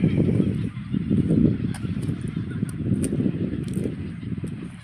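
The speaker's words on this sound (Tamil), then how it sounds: "ஆனால் இவ்வளோ பறவைகள் வந்துட்டு இருக்குது பார்க்க முடியுது" Flock of geese or similar waterfowl arriving, honking calls overlapping continuously and moderately loud over a steady outdoor din, with no talk.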